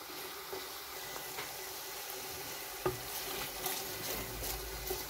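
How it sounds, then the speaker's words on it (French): Onion, garlic, salt and bouillon cubes sizzle and fry in a pot while being stirred, a steady crackling hiss broken by occasional scraping knocks of the spoon against the pot. "oignon, ail, le sel, les bouillons, les cubes d'assaisonnement. Je vais remuer le tout."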